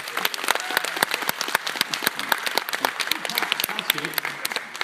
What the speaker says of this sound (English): Could you hear the round of applause you got then?